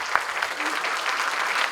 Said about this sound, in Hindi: आपको तालियां जोर से बजानी है